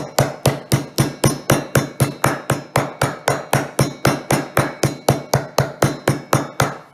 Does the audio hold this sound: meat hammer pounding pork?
yes